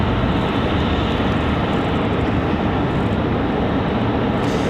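A Delta airliner arriving from Atlanta roars with steady broadband jet noise at an airport, loud and sustained throughout.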